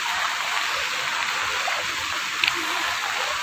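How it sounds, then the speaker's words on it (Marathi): Floodwater after heavy rain rushes across a road in a steady, broad hiss of flowing water, continuous and fairly close, with a brief splash near the middle and no talking. "बघा जसं नदीला महापूर आलेले आहे तसं या ठिकाणी महापूर आलेले आहे."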